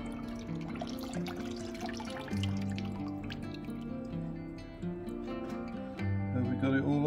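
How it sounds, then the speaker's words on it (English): Water running and splashing over sluice matting being washed down, a steady wet gushing and dripping that carries on without pause throughout. "Turn it over and you just wash it like you would any other sluice"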